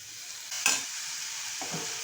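Chopped tomatoes sautéed in a pan for a Maharashtrian prawn masala, a soft steady sizzle with a couple of brief stirring scrapes.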